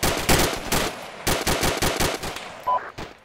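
Rapid gunfire from the military video game ArmA II, with loud, close bursts of automatic fire in an uneven rhythm, heard alone.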